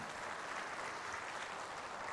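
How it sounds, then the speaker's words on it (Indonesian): A seated audience at a religious talk applauds, a dense, steady wash of clapping heard faintly and at a distance for a couple of seconds, with no voices on top. "Boleh tepuk tangan."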